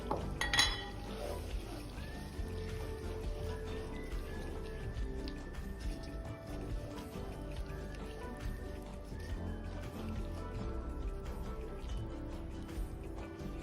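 A utensil scrapes and clinks softly against a pot while crushed peanuts are stirred into melted palm sugar over low heat. The light, irregular taps and scrapes repeat quietly throughout, with no talk.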